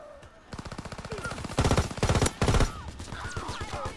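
Rapid automatic gunfire from a Call of Duty WW2 match comes in loud, close bursts of sharp, evenly spaced shots, with short pauses between volleys and steady game noise underneath.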